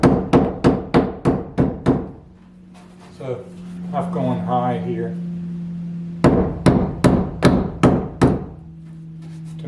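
Sharp hammer blows on strip planking during a wooden boat build land in quick, evenly spaced bursts, pausing while someone talks over a low hum, then resuming in another rapid series of close, loud strikes.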